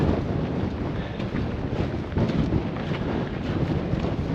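Strong, steady wind buffets the microphone on an exposed mountain path between Ben Macdui and Cairn Gorm on a cold summer day, a continuous close roar with gusty swells and no speech.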